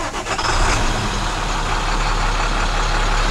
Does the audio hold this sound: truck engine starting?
yes